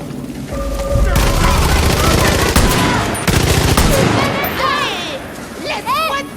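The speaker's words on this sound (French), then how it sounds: "Des coups de feu." Dense gunfire in the video game Far Cry New Dawn, with rapid automatic bursts and loud booms in a stormy scene, mixed with shouting voices and game sound effects.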